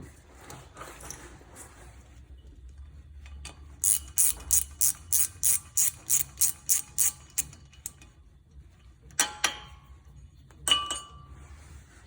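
A front rotor screw comes out of a 2013 Chevy Cruze with a rapid run of about a dozen sharp ratchet clicks, followed by a few separate metallic clinks and rattles. Close and clear, with no talking.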